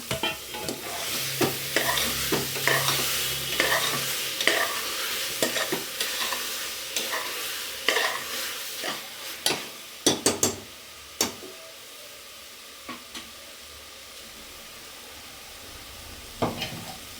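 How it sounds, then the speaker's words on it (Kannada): Soya chunks sizzle in a pan while a spatula scrapes and stirs, with sharp knocks against the pan. The frying fades lower toward the end. No voices. "ಈಗ ಇದನ್ನು ಇದಕ್ಕೆ ಹಾಕ್ಬಿಡೋಣ, ಚೆನ್ನಾಗಿ ಸ್ವಲ್ಪ ಫ್ರೈ ಮಾಡೋಣ"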